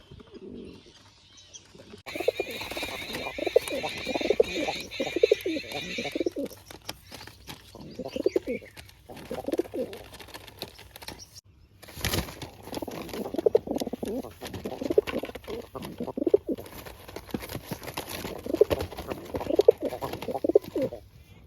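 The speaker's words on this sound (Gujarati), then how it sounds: "મિત્રો બે કબૂતર બેઠા રહ્યા" Two pigeons coo in soft, repeated rolling phrases at close range, with pauses and some light rustling between the calls and faint background noise.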